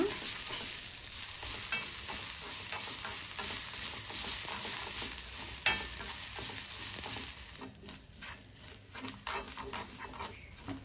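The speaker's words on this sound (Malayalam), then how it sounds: "കുറച്ച് തേങ്ങ നമുക്ക് ലൈറ്റായിട്ടൊന്ന് മൂപ്പിച്ചെടുക്കാം." Grated coconut lightly roasting in a pan for a Kerala-style tuna and drumstick curry gives a steady close sizzle, with a spoon scraping and stirring through it and no voices.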